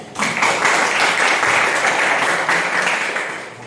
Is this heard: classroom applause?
yes